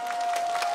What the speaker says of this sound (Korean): 여러분들 큰 박수로 환영해 주시죠